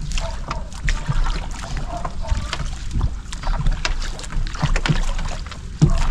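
Steady water and hull noise of a small bangka being rowed, with soft rhythmic oar splashes and light wind rumble throughout.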